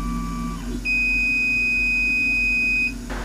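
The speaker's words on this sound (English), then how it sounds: "All right, Tony, that beeping sound means the job is over" An engraving machine gives a single long, steady electronic beep signalling a finished job, loud and clear for about two seconds over a low background hum, with no talking.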